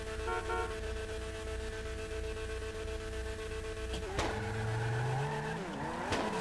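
Honda Civic EG6 with a K20 engine in GTA 5, revving as VTEC kicks in, a steady in-game engine drone that climbs sharply in pitch near the end, with sharp clicks and no talk.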